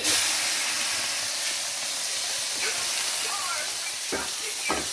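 Tomatoes dropped into a pan of frying tilapia, a steady broad sizzle and hiss throughout, with a few brief stirring scrapes and clatters near the end.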